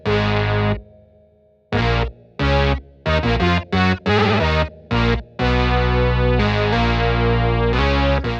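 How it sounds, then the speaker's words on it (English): A layered 80s-style synth bass, built from two synths stacked together, plays a punchy rhythmic riff of short and sustained distorted notes with chorus, loud and upfront, with no voices. "I actually layered two synths together, which is a technique that certain producers in the 80s used to use"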